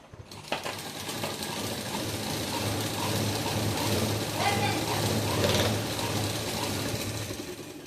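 A sewing machine stitches a small doll dress for a Laddu Gopal idol. Its rapid mechanical clatter runs continuously and nearby for several seconds.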